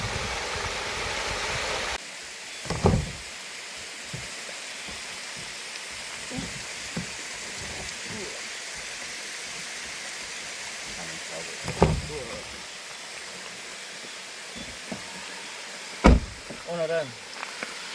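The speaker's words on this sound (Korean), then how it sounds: "오늘 밤새 물소리 한번 들어보자." Water from a stream in a remote mountain valley rushes in a steady, soft wash, with occasional close clicks and knocks over the continuous flow.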